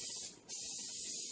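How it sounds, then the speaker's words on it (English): Olive oil cooking spray hisses onto a baking pan in two close bursts with a short gap between them, loud and airy with no talk. "Now, I know this is some olive oil spray."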